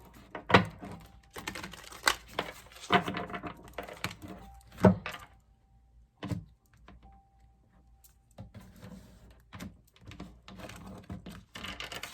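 Irregular bursts of rustling and flicking as tarot cards are shuffled up close, short riffles separated by quiet pauses.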